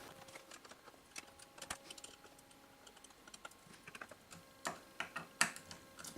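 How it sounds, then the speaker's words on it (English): Someone tightens screws on a Prusa i3 RepRap 3D printer that has been moved around, giving small irregular clicks and ticks, close and fairly quiet. "it's a case of tightening up all the screws because it's been moved around a lot"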